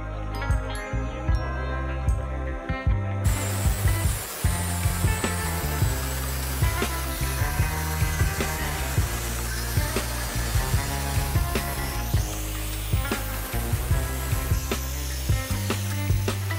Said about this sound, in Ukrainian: я зараз буду вирізати цю перемичку і буду вирізати ось тут кусочок Т-образного профіля